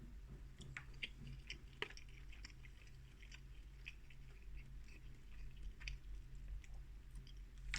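Chewing on an Iceland hash brown, soft close crunchy bites and moist mouth clicks scattered over a steady low background hum, no talking.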